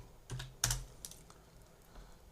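A handful of keystrokes tap on a computer keyboard, close and fairly quiet, in a short irregular burst.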